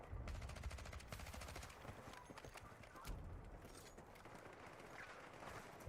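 Gunfire in a shooter video game: rapid bursts of shots crackle in quick succession over a steady, busy game background, with a brief louder volley partway through.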